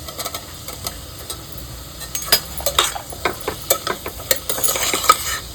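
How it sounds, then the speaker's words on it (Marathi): Soaked cashews and potato sautéed for veg shahi biryani: a spoon scrapes and clinks against the pan in quick, irregular strokes over a soft background sizzle, close and clear. "छान असं परतून घेऊया"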